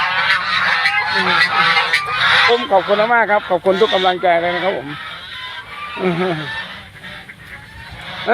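Geese honk in a series of loud, nasal calls from close by on a Thai farm, with someone talking over and between them and background chatter throughout.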